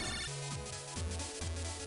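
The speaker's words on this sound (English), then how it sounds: "You got a phone call." A phone rings in the video game Mega Man Battle Network 3, a repeating electronic ringtone of short rising tonal blips, bright and steady, playing alone without voices.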